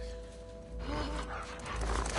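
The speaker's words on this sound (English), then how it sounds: "And we got a dog attacking." A dog attacks in the video game The Last of Us Part II, with snarling, panting game audio swelling over a constant low rumble of background sound.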